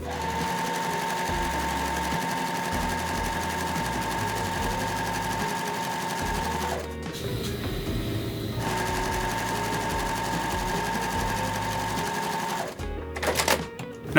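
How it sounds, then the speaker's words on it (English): A sewing machine stitches a quarter-inch seam on quilt squares, running in a steady close whirr, pausing briefly in the middle, then resuming before stopping with a few clicks. "we're going to sew a 1/4 inch seam on each side of that line we just made"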